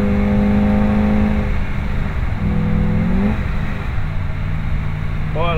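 An old Cadillac 472 V8 runs steadily up close, a loud low rumble with a couple of shifts in engine pitch. It is heard from inside the car, with faint talk underneath.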